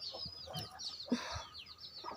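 Chickens cluck and chatter near a coop, several short overlapping calls at close range with a bright bird-like quality, and no speech.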